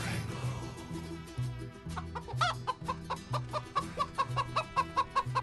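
A chicken clucks in a steady, rhythmic series of short calls that grow louder and more regular toward the end, layered over a repeating musical background.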